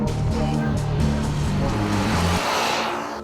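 Honda CBR150R and Yamaha YZF-R15 V2.0 motorcycles ride at speed, a loud continuous engine drone with shifting pitch and changing harmonics, easing slightly toward the end.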